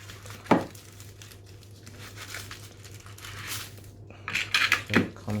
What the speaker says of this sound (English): Let's remove the plastic.